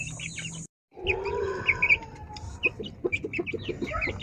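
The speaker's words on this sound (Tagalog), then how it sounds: "So, apat na po yung sisiw ng ating gold champ." A gold shamo hen clucks low and close while her four chicks cheep in high, rapid chirps around her, the calls overlapping steadily after a brief silent gap.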